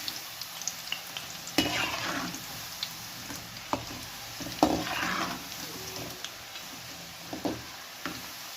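Peanut masala frying in oil reused from a previous day's bonda batch, a steady close sizzle with occasional sharp pops and ticks and brief stirring scrapes, no voices.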